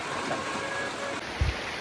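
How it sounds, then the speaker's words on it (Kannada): Steady rain falls outdoors as a broad, even hiss with scattered droplet patter, moderately loud and continuous throughout, with a brief low thump near the end and no voices. "ಮಳೆ ಜೋರೇ ಆಗ್ತಾಯಿದೆ"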